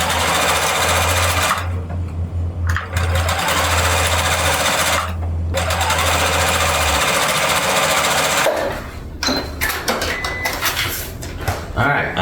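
Sewing machine stitching glue-basted pixel quilt pieces, loud rapid mechanical whirring in long bursts separated by short pauses, close up, with a voice talking over part of it.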